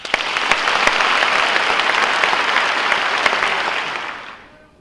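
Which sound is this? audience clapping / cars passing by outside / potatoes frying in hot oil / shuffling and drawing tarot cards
audience clapping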